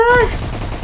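Gunfire in the Roblox DARKDIVERS alien-survival game, a dense continuous rattle of shots following a short electronic tone, loud and close.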